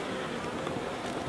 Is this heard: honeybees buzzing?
yes